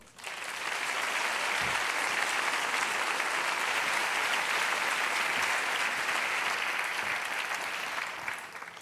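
A conference audience at a Naukas science talk event in Murcia breaks into loud, sustained applause that swells quickly and holds for several seconds before tapering off.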